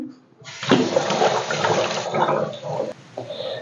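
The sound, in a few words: water running while washing hands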